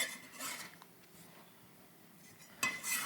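Light clinks and scrapes of a dish as crumbled steamed salted egg is moved onto a plate in a home kitchen, a few soft taps spaced apart over quiet background.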